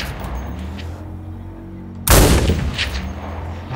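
A sudden, loud burst of rapid gunfire from the player's weapon in the shooter game CRSED cuts through quiet ambience and rings on with a booming tail.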